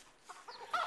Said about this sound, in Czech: Utíkej, slepičko, utíkej.